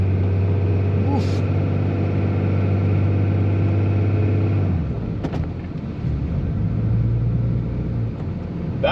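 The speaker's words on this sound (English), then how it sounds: "Oh, you trying out the four-wheel drive this morning." A John Deere 7210R tractor running in four-wheel drive, its steady low engine rumble close and loud, easing off partway through with a brief rattle, while a person talks over it.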